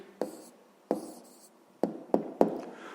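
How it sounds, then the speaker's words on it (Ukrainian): Pen or pencil writes an answer on paper in short bursts, with a few quick scratchy strokes and taps spaced across a few seconds, close and quiet, with no talking. "Записуємо відповідь."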